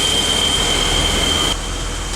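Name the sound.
BMW 635 CSI car exhaust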